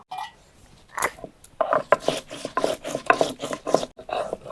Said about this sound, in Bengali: জিরাটাকে বাইটে নিব।